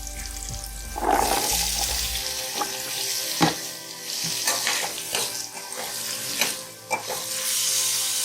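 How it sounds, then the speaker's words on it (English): Chopped radish frying in a pan with roasted green chilies and ginger, a steady close sizzle with scattered stirring scrapes and clinks throughout, no voices. "After roasting green chilies and ginger, we'll be adding the chopped मूली."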